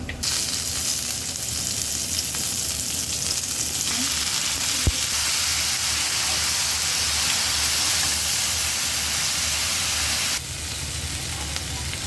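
Long beans (barbati) frying in a pan, a loud continuous sizzle with one sharp clack of a utensil partway through, the hiss dropping slightly near the end; no speech.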